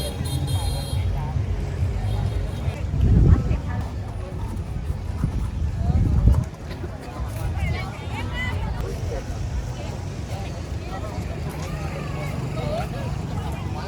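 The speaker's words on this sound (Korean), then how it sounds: "오토바이 한번 봐요" Busy night-market street traffic in Dalat, Vietnam, with motorbike engines rumbling past, two louder passes swelling and fading, under a background murmur of people talking.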